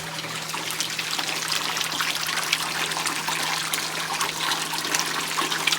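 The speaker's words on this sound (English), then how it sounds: "we have the water coming in on tank number 4 at a 45-degree angle" Water pouring into a tank of an aquaponics fish system, entering at an angle to create a swirl; a steady, close splashing trickle with a low constant hum underneath.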